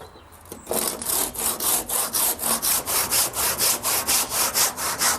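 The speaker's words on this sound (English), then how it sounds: "we're going to cut a section out the frame so that when we force it off the wall," A hand saw cuts through a wooden frame in a 1930s home in steady back-and-forth strokes, loud and close, about a dozen rhythmic rasping pulses after a brief quiet start.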